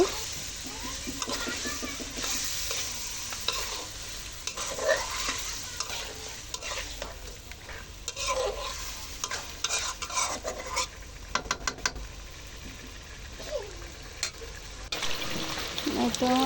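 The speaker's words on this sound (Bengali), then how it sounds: "প্রথমে মুরগির মাংসটা ভালো করে কষিয়ে নিতেছি" Chicken pieces with spices sizzle and fry in a pan while a spoon repeatedly scrapes and stirs, close and continuous, with faint voices in the background.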